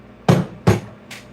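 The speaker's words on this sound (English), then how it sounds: "Flat hammer." A flat hammer strikes metal at a jewelry repair bench with a mandrel: two sharp, close, ringing blows, then a lighter third tap.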